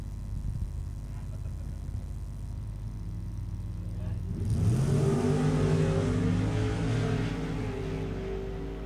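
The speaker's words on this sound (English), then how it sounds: "Anyhow, we got Ned from Adelaide in the Chevy up against Kane Reid from Cranbourne in Victoria in the HP Tyrannosaurus." Drag racing at an ANDRA Sportsman Series meet in Portland, a Chevy launching against the HP Tyrannosaurus: a steady engine drone swells into a louder, rising roar of the cars accelerating away, with no speech over it.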